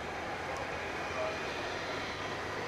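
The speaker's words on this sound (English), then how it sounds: "I believe we've got some backing out going on here with this MD-11" A McDonnell Douglas MD-11 jet pushes back at Dallas/Fort Worth International Airport at night, its engines giving a steady, broad roar that holds at an even level throughout.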